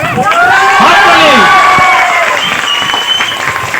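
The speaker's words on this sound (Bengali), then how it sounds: "হাততালি।" A crowd at a Teacher's Day celebration at a youth computer centre breaks into loud, close applause mixed with cheering and children's shouts, lasting a few seconds.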